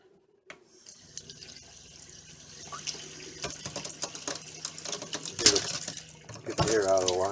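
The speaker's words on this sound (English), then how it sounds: "I'm going to turn the sink on, and hopefully we can hear it" Water gushes from a sink faucet in an RV, a steady rush that builds and grows louder toward the end, with some handling clatter and a brief voice in the background.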